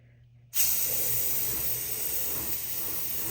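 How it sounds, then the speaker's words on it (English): An aerosol can sprays paint onto an action figure sitting in a protective case. After a quiet start, a close, steady hiss kicks in abruptly and holds for about three seconds. "She's spray painting the chase figure."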